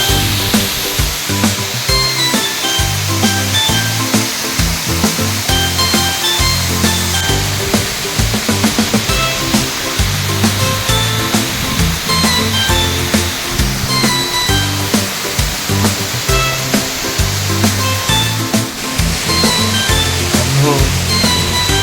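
A scenic waterfall at a picnic spot roars with a loud, continuous rushing wash of falling water, with voices faintly audible beneath it.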